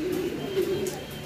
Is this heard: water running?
no